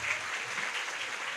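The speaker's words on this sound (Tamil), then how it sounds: "கொஞ்சம் ஜோராக கைத்தட்டுங்களேன்." Children at a church camp program clap loudly and steadily together on request, a dense, continuous wash of applause without a pause through the short moment.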